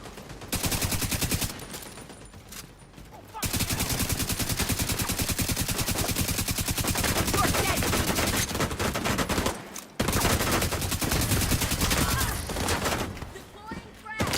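Rapid bursts of automatic gunfire from a video game firefight crackle loudly and continuously over heavy metal music, with brief pauses between volleys and a voice talking underneath.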